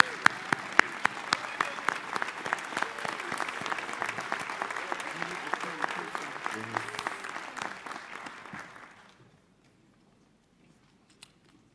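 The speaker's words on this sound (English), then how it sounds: "so we can give you a round of applause for what you do" An audience at Howard University's 2023 Charter Day Convocation applauds the faculty, dense sustained clapping that fades out after about nine seconds into near silence.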